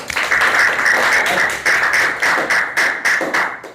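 Classroom applause from students after a teacher's lesson on honesty and trustworthiness, a run of loud, fairly rhythmic group clapping with regular beats, sounding close and filling the room.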